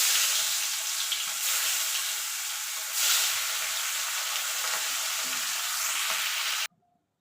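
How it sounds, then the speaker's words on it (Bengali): Shankar fish (stingray) pieces fry in hot oil in a kadai, giving a loud, steady, crackling sizzle that runs unbroken and then stops abruptly near the end. "এভাবে বাকি মাছগুলো আমি ভেজে নেব।"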